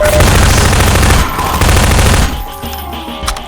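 Sustained loud automatic gunfire in the video game Half-Life 2, a dense close barrage that fades into quieter scattered shots and game ambience.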